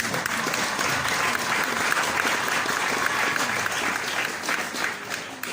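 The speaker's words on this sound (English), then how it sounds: "A round of applause, ladies and gentlemen" Audience applause at the opening-night performance of a literature festival in Bergen, Norway, a dense, steady wash of many hands clapping that holds throughout at full strength.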